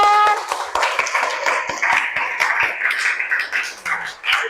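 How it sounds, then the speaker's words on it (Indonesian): Students applaud in a school classroom after a classmate's speech, a dense burst of many hands clapping steadily and close for several seconds, fading slightly toward the end. "Tepuk tangan."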